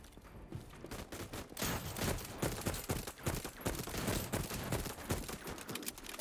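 Dense enemy gunfire in the game Voidtrain, rapid bursts and volleys crackling without pause for several seconds, loud and close, with a fusillade of overlapping shots.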